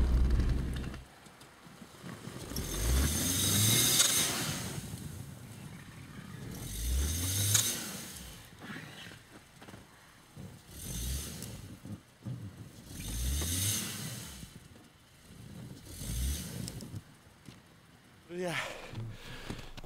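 A car engine revs in repeated surging bursts while the vehicle is stuck off-road in deep snow in a forest at minus 30. Each rev rises and falls, separated by quieter gaps with light breathing.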